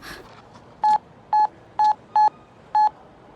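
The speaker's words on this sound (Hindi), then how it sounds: "उसे एक बार फोन लगाओ तो" A phone number being dialed, five short, evenly loud touch-tone beeps at slightly irregular intervals, close and clean over quiet room noise.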